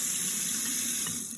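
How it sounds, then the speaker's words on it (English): Water rinsing through and running out of an alfalfa sprout jar, a steady close pouring and splashing rush that tapers off slightly at the end. "we're gonna rinse it out one more time today, all the way out"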